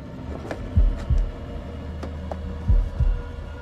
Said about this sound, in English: And I'm doing the heartbeat shit.